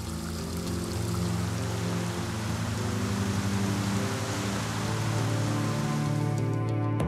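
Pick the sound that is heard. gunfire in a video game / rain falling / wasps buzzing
rain falling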